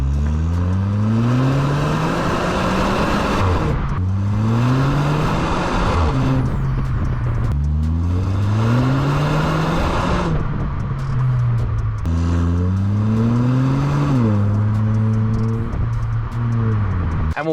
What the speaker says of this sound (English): two exhaust tips down the bottom, which sound just like this